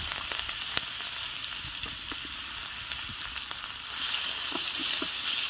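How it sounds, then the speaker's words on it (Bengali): Chopped onions fry in a pan with a steady, fairly quiet sizzle and scattered small crackles and pops throughout, no talking. "পেঁয়াজটা ভালো করে একটু ভেজে নিচ্ছি।"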